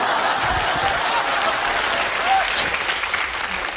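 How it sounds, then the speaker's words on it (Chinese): Loud, dense applause from a live audience at a comedy sketch performance, steady and close for the whole stretch with a slight easing toward the end. "街坊邻居还鼓掌呢"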